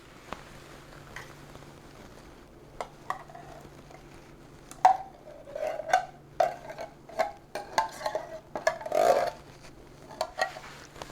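Spoon stirring blueberry pie filling from a 21-ounce can into blueberry Jell-O in a bowl, with soft scattered scraping and clicking strokes, close and fairly quiet, over a low steady hum, with no talking.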